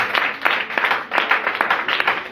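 Congregation in a church applauding together, a dense burst of clapping that rises and swells for a couple of seconds with brief dips.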